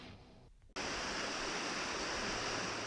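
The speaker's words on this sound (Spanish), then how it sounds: "De las entrañas de Pastaza nos vamos a la cascada clase 5 vertical, donde el vértigo es normal." Class 5 vertical waterfall in Pastaza, Ecuador: after a brief dip, a loud, steady, broadband roar of falling water fills the scene without a break.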